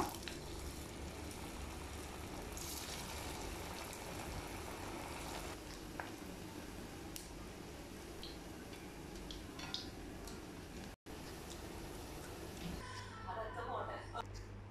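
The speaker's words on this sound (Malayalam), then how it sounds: "എണ്ണ ചൂടാക്കിയതിന് ശേഷം ഓരോന്നും ഫ്രൈ ചെയ്തെടുക്കുക" Bread unnakaya balls sizzle steadily in heated oil, a continuous crackling fry with fine popping ticks, running alone at moderate level with a brief dropout near the end.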